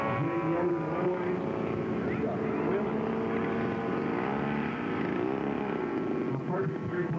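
A radio-controlled model airplane engine on landing approach toward a runway at an air show, a loud continuous droning buzz that shifts slightly in pitch as power is added, with a voice talking over it.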